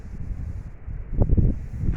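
Wind gusting across an outdoor vegetable garden, a low continuous rumble on the microphone with a slightly stronger buffet near the end.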